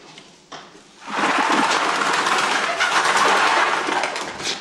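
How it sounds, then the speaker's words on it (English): Pigeons in a horror film scene, a sudden loud burst of flapping and cooing that starts after a second and fills the rest of the clip. "those birds were just waiting there to fuck with someone"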